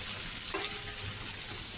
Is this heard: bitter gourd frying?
yes